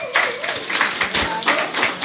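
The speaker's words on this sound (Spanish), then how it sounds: "Un aplauso, por favor." Clapping from a church congregation welcoming the pastor to the pulpit, rhythmic bursts close to the microphone mixed with voices and cheering.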